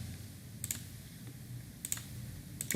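Keys on a computer keyboard are pressed in three short, quiet bursts of a couple of clicks each, set against a soft room hum with no speech.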